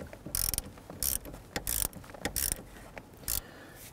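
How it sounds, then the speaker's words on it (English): A ratchet tightens the ground terminal nut on the battery of a 2011-2021 Jeep Grand Cherokee 3.6L V6. About six short, close, crisp bursts of clicking are separated by brief pauses, with no talking. "let's go ahead and tighten down the terminal nut here."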